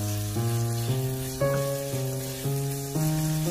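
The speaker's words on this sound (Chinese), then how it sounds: "炒香之后再把火腿丁加进来，豌豆也加进来，然后翻炒均匀" Diced ham, peas and carrot stir-fried with eggs in a pan give a steady, soft sizzle under melodic background music.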